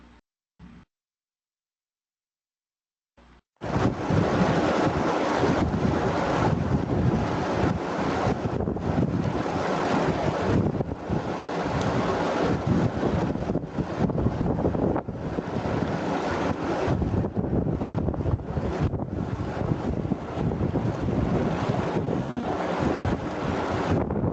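Water flows through a sluice gate of a horizontal flocculator under construction at a water treatment plant, a loud, steady rushing roar that starts after a few seconds of near silence and continues unbroken with no talking.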